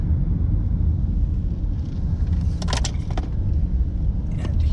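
A car drives slowly past a rental house beside a golf course, giving a steady, close engine and road rumble throughout, with a few brief higher clicks or rattles inside the car partway through.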